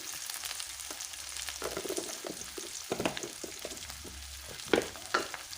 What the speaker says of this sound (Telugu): దొండకాయ ఫ్రై అయితే అయిపోయిందండి